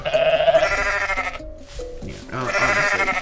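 Goat in the video game Goat Simulator letting out loud, wavering bleats, one long cry, a short gap, then another, with a voice faintly present in the mix.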